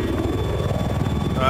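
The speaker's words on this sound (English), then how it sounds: "Look at eyes on the enemy chopper." Enemy helicopter in Battlefield 4 on the Dragon Valley map, rotor chopping in a fast, steady beat at close range, loud and continuous with voices over it.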